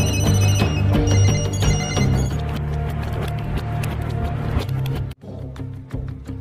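Several telephones ring at once in an assassin-thriller scene, layered electronic ringtones and bells chiming together loudly before cutting off abruptly, then quieter tones continue.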